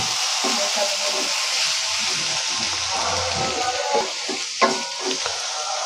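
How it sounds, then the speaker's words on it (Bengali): Spices tipped into onions frying in a kadai for spiced beef liver crackle and sizzle with a dense, steady hiss, with a few louder spits and stirring knocks toward the end. "সেই মশলাগুলো সব এখন এই কড়ার ভিতর আমরা পেঁয়াজের সাথে ঢেলে দিব"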